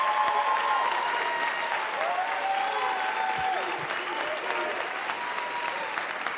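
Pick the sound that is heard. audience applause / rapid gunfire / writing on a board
audience applause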